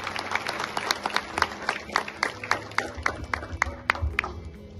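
A crowd at a birthday felicitation event claps enthusiastically, with sharp individual hand claps standing out over a denser spread of applause, close and lively, with a low background murmur.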